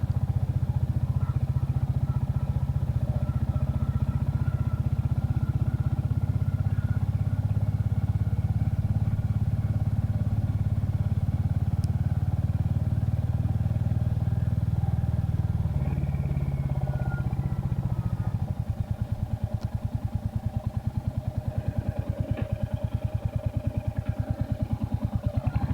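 A vehicle engine runs steadily and close by on a drive through the Yorkshire Dales toward Dent, a low continuous drone that turns to a rough, rapid pulsing near the end.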